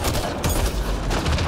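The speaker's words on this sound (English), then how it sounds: "Nó cầm cái súng máy sao đó" Gunfire from a machine gun in the PS4 game Mass Effect: Andromeda, a dense, steady spray of rapid shots with heavy low-end thumps, loud and continuous through a fighting scene.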